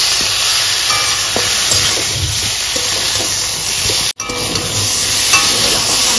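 Masala with jackfruit and potato frying and being stirred in a pan over medium-high flame, a steady loud sizzle with scraping stirs throughout and a brief drop near the end.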